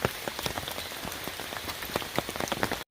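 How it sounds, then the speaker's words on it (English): Rain falling on a forest trail at Umstead State Park in Raleigh, North Carolina: dense, steady pattering of drops on leaves and ground, close and continuous, with no voices. "Do they like this rain?"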